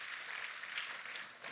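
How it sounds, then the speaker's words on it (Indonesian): A church congregation claps together in praise during a worship service, a bright, continuous crackle of many hands at an even level from start to finish. "Kita kasih tepuk tangan yang paling meriah buat Tuhan kita."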